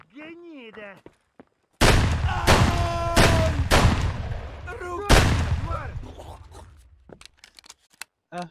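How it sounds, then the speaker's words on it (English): Several players open fire together in Escape from Tarkov, with loud overlapping bursts of gunshots rattling over a few seconds and a few louder single cracks. Voices are heard briefly before and after the shooting. "Five people shooting at this goddamn scav."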